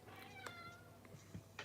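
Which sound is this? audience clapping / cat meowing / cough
cat meowing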